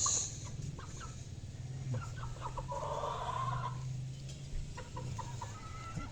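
Chickens cluck and murmur nearby in a steady, scattered chorus over a low background hum, with no talking.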